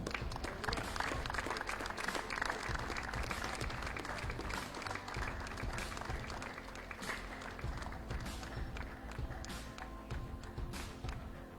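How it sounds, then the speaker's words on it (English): A crowd applauds at the awards ceremony of a men's open singles tennis championship final, a steady, fairly quiet patter of clapping that continues throughout with a few sharper individual claps. "please give a big round of applause to the men's open singles runner-up of the SSC Open Tennis Championship 2021, Vibuda Wijebandara."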